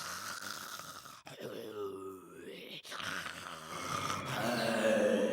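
A wolf snores loudly in a Japanese animated telling of Little Red Riding Hood. The snores are long, groaning voiced breaths, likely performed by a voice actor imitating the sound, steady and close against a music bed.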